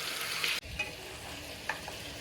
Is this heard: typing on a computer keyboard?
no